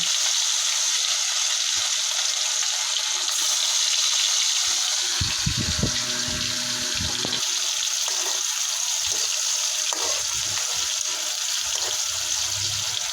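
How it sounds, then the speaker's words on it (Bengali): Fish rubbed with salt and turmeric frying in hot oil, a loud continuous hiss and crackle that stays steady at close range throughout. "মাছগুলো তেলে ছেড়ে দিয়ে ভেজে নেব"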